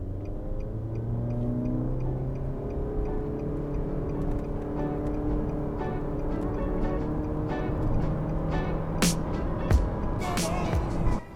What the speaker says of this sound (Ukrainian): Зараз перевіримо розгін до сотні, який по паспорту у нас 12 секунд.